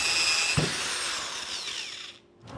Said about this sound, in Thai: เดี๋ยวผมก็จะเอาดอกเจาะบรรพับถ้วยเนี่ยเจาะเป็นรู